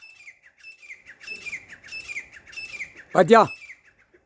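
Bird calling in a rhythmic run of thin chirps and whistled notes, fairly close, followed by a brief voice speaking over a louder burst near the end.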